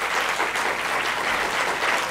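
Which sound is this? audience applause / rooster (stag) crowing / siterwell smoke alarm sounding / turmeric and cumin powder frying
audience applause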